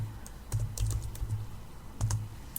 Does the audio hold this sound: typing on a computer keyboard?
yes